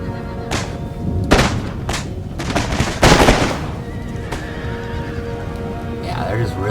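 Gunfire from camel gunners in the Empire Total War game during an Ottoman battle against Plains Indians, with scattered sharp shots and booms over a busy battle din and horse whinnies.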